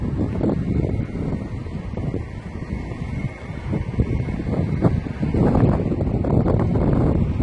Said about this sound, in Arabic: تراب وهوا ورياح، هوا شديد يعني